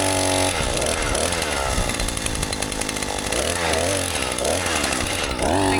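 A powered drill bores fence post holes into rocky ground, its engine a loud, steady, rough drone that runs unbroken from start to finish, close up and with no voices.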